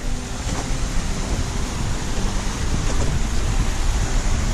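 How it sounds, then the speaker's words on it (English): Waterfalls at Bridal Veil Falls along the Coppermine Trail, heard as a continuous broadband roar of rushing, splashing water, steady and full without any break. "you're right by a couple waterfalls, which is real nice"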